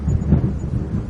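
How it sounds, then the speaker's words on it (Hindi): A thunderstorm with rumbling thunder and heavy rain, a loud continuous low roar with no voices. "आसमान में बिजली चमकती है, बारिश शुरू हो जाती है।"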